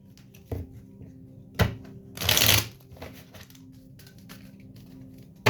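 Tarot cards are shuffled close by: a few sharp flicks, then a brief riffling burst, followed by quieter handling and taps.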